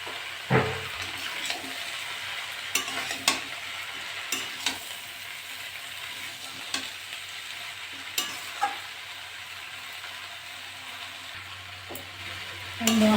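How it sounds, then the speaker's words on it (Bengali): Ground spices with coriander powder and salt fry and are stirred for a crab, prawn, pumpkin and potato curry, a continuous close sizzle punctuated by regular clinks and scrapes of the spoon. "মশলা দিয়েছি, আমি এবার ভালো করে কষে নেবো।"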